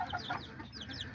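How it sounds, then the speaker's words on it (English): A hen clucks softly and steadily while her three chicks peep high and quick around her. The chirps are close and continuous throughout. "just only left this chicken in here with her babies"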